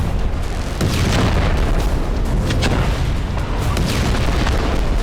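An Israeli airstrike hits a building in Khan Younis, with a loud, sustained roar of blast noise and rumble that fills the whole stretch, heavy and close, and no voices.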